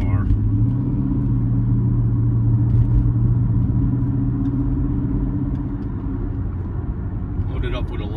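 A 2004 Mercedes-Benz S55 AMG cruising with a steady low engine and road rumble throughout, heard from inside the car, with someone talking over it.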